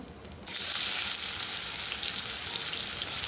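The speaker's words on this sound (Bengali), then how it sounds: "তো ওই তেলে পেঁয়াজ কুচিটা দিয়ে দেবো" Chopped onion hits oil left from frying fish and bursts into a loud, steady sizzle after a short quiet moment, continuing close and even.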